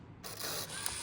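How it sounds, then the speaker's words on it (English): Fuji Zoom Cardia 200 film camera firing in continuous shooting mode, a brief soft whirring motor and shutter run that starts abruptly after a moment of silence and holds steady, close and quiet. "Here is continue shooting, which it will keep on like shoot until you release the shutter."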